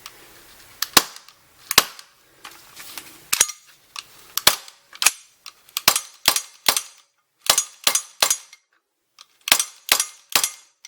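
Umarex T.A.C. converter gas blowback airgun firing roughly sixteen sharp, close cracks, first spaced singly, then in quick pairs and short bursts, with no one talking.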